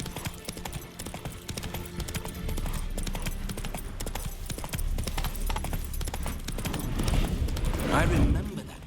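Horse hooves clip-clopping in The Witcher 3: Wild Hunt, a steady rapid trot of hoofbeats under someone talking, moderately quiet, swelling louder toward the end.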